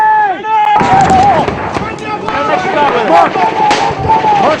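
A sharp blast from a grenade in Canadian combat in Afghanistan, followed by a dense, loud roar of gunfire and rumbling noise, with soldiers shouting close by throughout.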